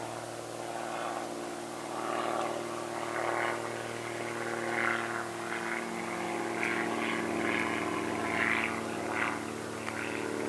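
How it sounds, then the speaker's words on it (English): An airplane passes overhead as a steady, broad engine drone that swells gently and stays loud throughout, with no voices over it. "I'm going to wait till this plane goes by before I continue."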